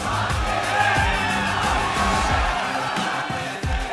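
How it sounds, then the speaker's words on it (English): Crowd at a 2014 NA LCS League of Legends esports arena match between CLG and COL, a loud, sustained roar of cheering, whooping and shouting throughout, dense and continuous. "Crowd in a very jovial mood here for the CLG."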